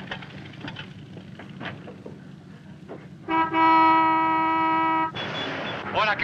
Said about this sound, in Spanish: Y yo toco el claxon.